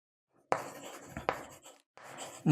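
A pen or chalk writes on paper or a board during a math lesson, with short separate scratching strokes and brief pauses between them, close and fairly quiet.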